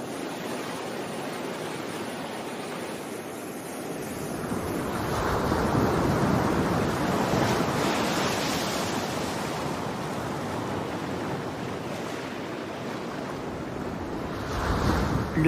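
Ocean surf breaks on a rocky shore of the Salish Sea in Canada, a broad roaring wash that swells and recedes with wind noise, loud and close with no voices.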